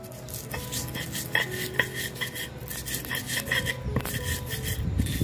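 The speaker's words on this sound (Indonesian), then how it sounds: "Ini bumbunya langsung kita haluskan." Spices including salt, coriander and turmeric are ground into a paste for a grilled gourami dish, making close, repeated rough rubbing and scraping strokes with occasional harder knocks, and no one speaking.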